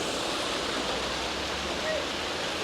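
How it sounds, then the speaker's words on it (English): Water rushes steadily into a canal lock through opened gates, a dense, continuous roar with no breaks throughout. "as soon as they open, the water floods in"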